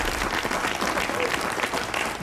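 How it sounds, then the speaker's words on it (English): A television studio audience at a late-night talk show applauds steadily, a dense wash of clapping from a crowd that carries on for the whole stretch, with a faint voice rising at the end. "Thank you for applauding my horrible relationship."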